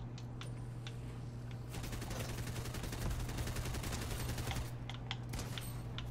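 A bot fires at the player in a Fortnite-style shooter video game, producing a dense, steady stream of rapid gunshots that carries on without a break across the whole stretch, fairly loud over a constant low hum.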